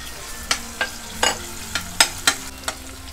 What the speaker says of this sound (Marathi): तेल तापले, हे आलं आणि लसूणची पेस्ट टाकायची।